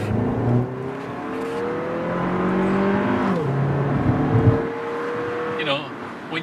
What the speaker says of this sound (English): there's a little more engine noise because it is a smaller 4-cylinder turbo